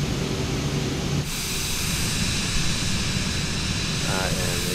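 Airplane engine drone in Microsoft Flight Simulator 2020 during a slowing descent, a loud steady roar throughout with a shift in tone partway through, as people talk over it.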